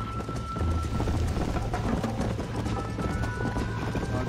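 Rhythmic hoofbeats of a galloping horse in the video game Red Dead Redemption, steady and close, over a constant low rumble of ambient game sound.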